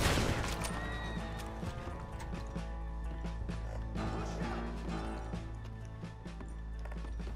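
A horse whinnies loudly up front in Red Dead Redemption, then hooves clatter and gunfire bursts fill the busy game soundscape.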